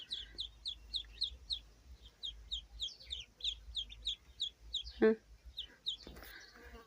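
Quiet, rapid high peeping of chicks repeats in quick runs, with a brief louder squawk near the end, close and soft.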